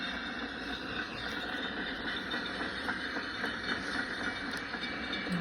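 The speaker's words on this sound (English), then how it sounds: "Can you hear the train?" An old steam train rumbles steadily with a continuous hiss and faint rhythmic clatter of rail cars, heard close and alone without voices.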